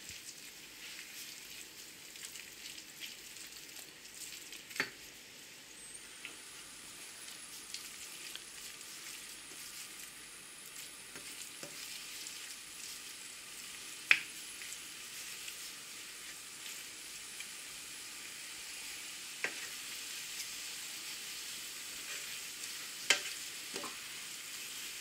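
Spinach cooks in a pan for spinach and Turkish cheese brik pastries. A steady, gentle sizzle runs throughout, with occasional sharp clicks and pops from the pan.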